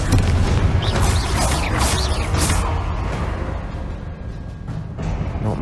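In the Hogwarts Legacy video game, a Confringo fire spell bursts into a loud, dense booming explosion with crackling, whooshing debris that slowly fades while the rumble continues.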